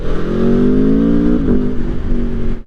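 An Aprilia Tuono V4 Factory motorcycle engine revs loud and close, its pitch climbing steadily as it accelerates, then briefly dipping before cutting off abruptly near the end.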